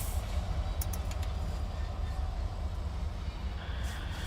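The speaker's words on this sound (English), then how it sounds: "here comes our fuel rack locomotives" Fuel rack locomotives rolling into a Norfolk Southern rail yard, a loud continuous low diesel rumble and rail clatter close by, with a few short high metallic squeals.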